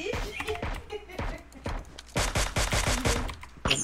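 Gunfire in the PUBG Mobile video game cracks out in rapid, sharp bursts of shots, some loud and close, others spaced apart, across a few seconds.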